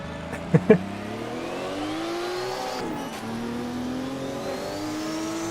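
A Group 5 race car engine in the Automobilista racing game revs loudly and continuously, its pitch climbing and falling through gear changes, with two sharp short pops near the start and no talk over it.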